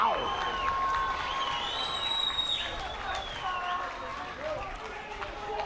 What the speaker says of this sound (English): I can hear the cheering all the way from Leilehua